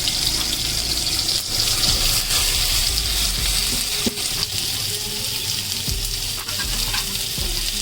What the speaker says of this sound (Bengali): এই সেদ্ধ করে নেওয়া কচুটি আমরা এবার এর মধ্যে দিয়ে দিচ্ছি